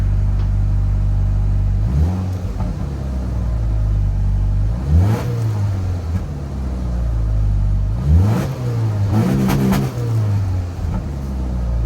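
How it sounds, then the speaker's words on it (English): A 2024 Subaru Impreza RS with a Remark axle-back exhaust idles with a deep, loud rumble and is blipped three times, each rev rising and falling quickly. "Now that is how the Subaru Impreza RS should have sounded from the factory."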